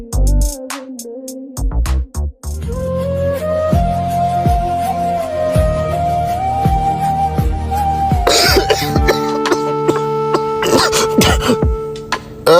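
A person coughs in short fits over steady background music, with some speech mixed in. The coughs are moderately loud.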